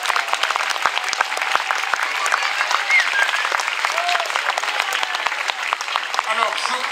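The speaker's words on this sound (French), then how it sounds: "j'invite toute l'assistance à acclamer Jeanne d'Arc" An audience at the 50th Fête Jeanne d'Arc in Compiègne applauds Jeanne d'Arc 2023, Marie-Madeleine Huard, with dense, steady clapping from a large crowd that holds at an even loudness throughout, with no voices standing out.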